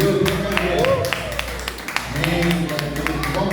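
A small group in a podcast studio claps to welcome a guest, sharp hand claps over a low steady hum, while someone speaks through the applause.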